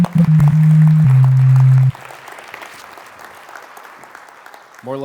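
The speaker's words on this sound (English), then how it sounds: "Round of applause for Adam." Conference audience applause for a synthesizer performer rises just after a held synth tone cuts off, then continues as moderate, even clapping in the room before another tone sounds at the end.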